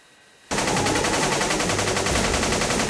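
Sustained machine gun fire in a 1992 action film shootout, a loud continuous burst of rapid shots starting abruptly after a brief quiet moment and running steadily to the end.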